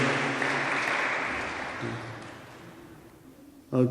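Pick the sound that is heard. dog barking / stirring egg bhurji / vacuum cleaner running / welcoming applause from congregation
welcoming applause from congregation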